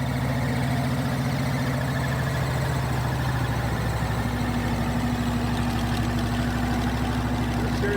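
A monster truck engine runs steadily in second gear with a deep, continuous rumble and a slight shift in pitch partway through, close and loud with no talking.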